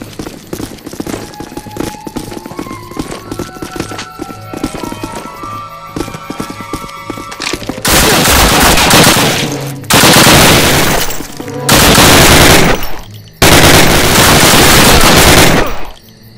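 Call of Duty US campaign battle: sustained automatic gunfire in heavy loud bursts with brief gaps between them, preceded by a busier mix of shots, clatter and effects.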